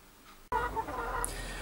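Hens in a suburban garden near a polytunnel cluck softly and steadily, a low murmur that starts abruptly and continues close by, with a brief higher squawk partway through.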